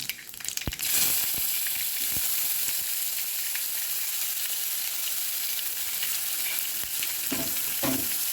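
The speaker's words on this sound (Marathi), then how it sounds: "छान गुलाबीसर होईपर्यंत आपण कांदा इथे परतून घेणार आहोत" Chopped onion hits hot oil tempered with mustard seeds, cumin and asafoetida, bursting into a loud, steady sizzle with a few sharp pops and spatula clicks, close and alone.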